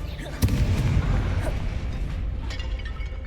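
An explosive Confringo spell goes off in Hogwarts Legacy, a sharp blast near the start followed by a rumbling, crackling roar that slowly fades.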